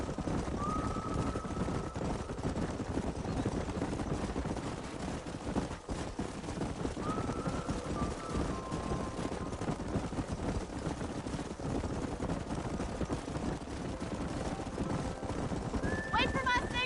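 Horses clip-clop across open ground in the Red Dead Redemption video game, with a steady hoofbeat rhythm under ambient game sound, and occasional whinnies breaking through.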